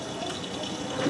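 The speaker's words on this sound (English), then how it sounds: "It's a high level rinse!" Miele W562 washing machine drawing in water for a high-level rinse, a steady close rush of filling water that holds even throughout with no pauses.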